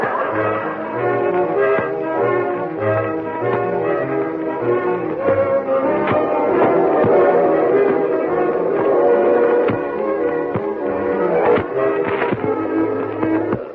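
A train rumbles steadily on the rails, a continuous dense clatter with rhythmic thumps and tonal whines, loud and close throughout, heard from inside a crowded passenger car.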